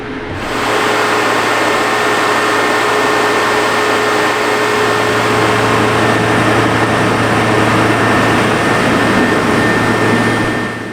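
A Douglas DC-6 airliner's engine runs up on the ground during an annual inspection, giving a loud, steady, unbroken drone with a low throbbing hum that holds constant throughout.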